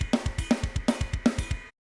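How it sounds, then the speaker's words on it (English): A short drum pattern with snare hits on every third sixteenth note, falling in a steady, syncopated groove over low kick thumps, played alone with no voices. "the drums are doing snare hits on every third 16th note, so it sounds like this"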